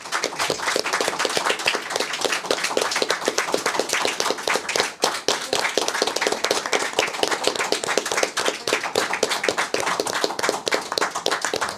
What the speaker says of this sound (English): Let's give another big round of applause to our panelists.